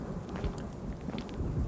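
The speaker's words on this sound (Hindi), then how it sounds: "बहुत ही तेज बारिश हो रही होती है, बिजली कड़क रही होती है" Heavy rain pours steadily with low rolling thunder rumbling beneath it, a dense, continuous wash of sound at moderate level with no voices.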